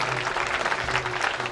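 An audience at a school science and art exhibition claps for the children, a dense, even burst of applause lasting a moment, fairly loud and without speech.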